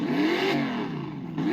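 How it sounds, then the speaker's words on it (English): A car engine revving sound played through a small Bluetooth speaker from an app beside a 1:10 Jeep Wrangler RC crawler, a steady, loud, slightly tinny rising and falling engine drone lasting the whole moment. "Give it a rev, Harry."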